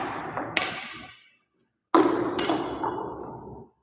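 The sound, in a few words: badminton push shot hitting the shuttlecock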